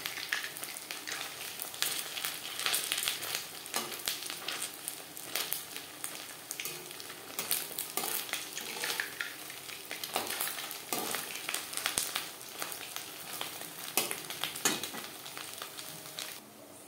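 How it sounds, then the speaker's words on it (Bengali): Semolina gulab jamun balls frying in hot oil, a steady dense sizzle with crackling bursts that runs continuously and fairly close, with no voices over it. "সুন্দর একটা কালার আসা পর্যন্ত ভেজে নেব।"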